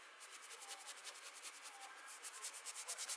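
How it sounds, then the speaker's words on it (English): Charcoal lines are rubbed and scrubbed out on a canvas during outdoor plein air painting at Lake Wenatchee: a soft, fast, rhythmic scratchy brushing, faint and close, growing a little stronger toward the end. "I'm going to kind of scrub out these charcoal 1/3 lines as I go."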